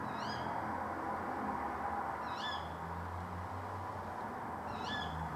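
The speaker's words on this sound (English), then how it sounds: "The owl just squawked 3 times" An owl calls at night in a graveyard, three short rising hoots spaced about two seconds apart, fairly distant over a steady low background rumble with no talk.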